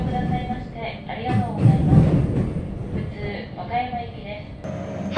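An early morning local train runs from Tennoji to Wakayama, with a rumbling, rattling cabin interior, clicks and thumps from the rails, and a voice talking over the steady running noise.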